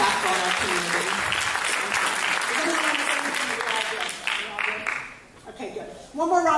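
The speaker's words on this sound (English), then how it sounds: "One more round of applause" Sustained audience applause at a community storytelling event, loud and dense from the start, thinning briefly near the end before swelling again, with voices cheering through it.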